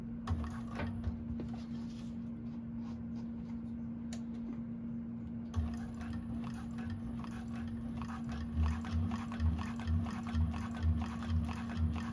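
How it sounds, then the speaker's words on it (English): A 1341 cylinder arm sewing machine stitches TPU vinyl for a bag, giving a steady close mechanical whir with rapid ticking stitch rhythm that runs nearly throughout and grows more pronounced toward the end. "we're going to sew from the bottom across the top down to the other side"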